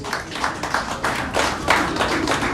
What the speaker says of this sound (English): can we please celebrate him with a round of applause?